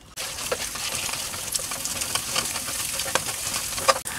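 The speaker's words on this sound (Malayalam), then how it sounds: "മുട്ടയൊന്ന് ചെറുതായിട്ടൊന്ന് ചിക്കി എടുക്കണം." Salted beaten eggs scramble and fry in a kadai, a steady close sizzle with scraping stir strokes and light clinks of the spatula against the pan.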